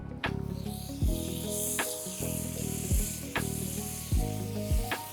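Salted butter sizzles in a hot pan with a steady frying hiss, broken by several spaced utensil clinks and scrapes, no one talking.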